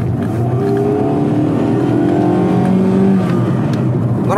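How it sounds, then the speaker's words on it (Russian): A Chrysler PT Cruiser with a 2.5 litre engine and an automatic gearbox accelerating smoothly, a steady droning engine note that climbs gradually under a constant loud rumble, heard up close with no talking. "Классический американский автомат, когда ты давишь на педаль газа, и машина все время равномерно ускоряется."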